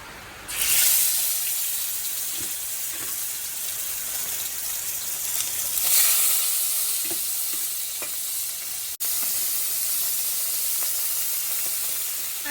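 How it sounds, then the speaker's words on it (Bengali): Tilapia fries in hot oil with a loud, continuous sizzle that surges and crackles, close up and without talk. "তো চলো মাছ ভাজাটা বসিয়ে দিই"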